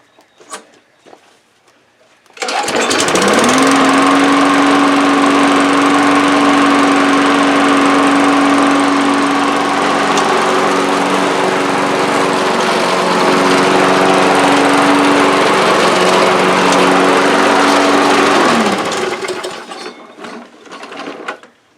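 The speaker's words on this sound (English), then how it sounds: "If you all have a Huskee mower, push mower like that" Huskee push lawn mower engine starting outdoors after priming, then running loud and steady for about sixteen seconds with a constant droning hum before shutting down, with no talk.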